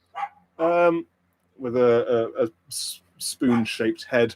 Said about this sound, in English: That's a dog that you can hear.